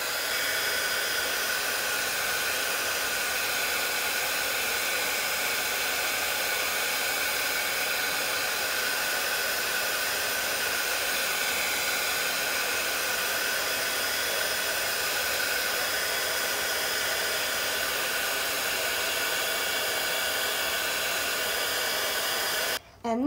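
A heat gun roars in a steady, close, unbroken blast while melting embossing powder on a Halloween mixed-media art journal page, cutting off abruptly at the very end.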